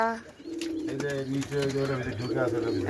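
Pigeons in a pigeon house coo in low, rolling repeated calls close by, with a person talking over them through most of the stretch.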